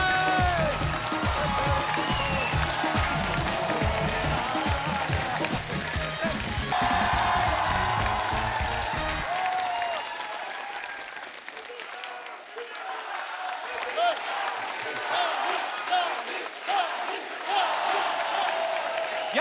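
A studio audience at a comedy talk show roars with applause, cheers and whoops as Sunny Deol comes on stage, a loud sustained crowd with rhythmic clapping and music early, easing slightly but continuing throughout.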